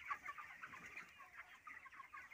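Thirty-two-day-old broiler chickens cluck in a hot-weather poultry shed, a continuous faint chorus of overlapping clucks and murmurs from many birds.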